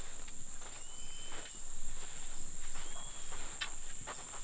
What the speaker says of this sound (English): when you hear the cicadas, it means it's going to rain. So they're very loud right now